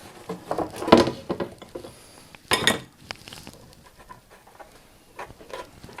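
Buttermilk scones being turned over inside a Ninja cooker, giving two distinct clattering knocks a couple of seconds apart, with faint handling noises between them and no talk.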